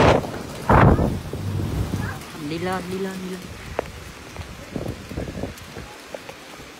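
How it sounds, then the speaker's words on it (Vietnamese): Heavy rain pours outdoors at a temple on the outskirts of Ho Chi Minh City, a steady hiss with wind buffeting the microphone, while people talk and call out nearby. "Đây à, mưa quá."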